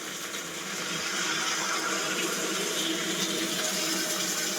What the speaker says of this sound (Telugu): 1 గ్లాస్ పాలు వేసుకుంటున్నామండి.